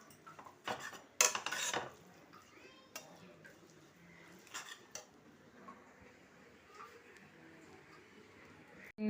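Shrimp paste and mustard paste being mixed together in a bowl, with a few sharp utensil clatters near the start followed by softer, intermittent scraping and clinking.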